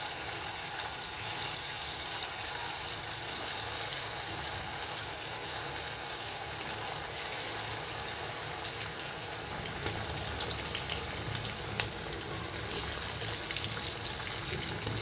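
Sweet potato kofte frying in hot oil over a medium-low flame, a steady dense sizzle and crackle throughout, close and even, with occasional sharper pops and no talking.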